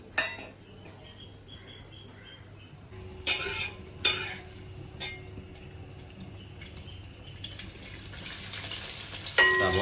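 Whole cinnamon, cardamom and peppercorns hit hot oil in a pan for a beef stew, giving a soft steady sizzle with a few sharp clinks of utensils against the pan, growing slightly louder toward the end.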